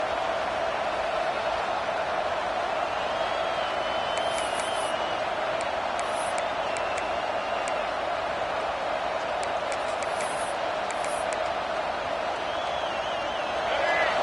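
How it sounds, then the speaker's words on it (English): Steady roar of a large stadium crowd at an Auburn football game, a continuous dense wash of noise throughout with scattered whistles and cheers rising above it. "This crowd bringing the energy and noise early."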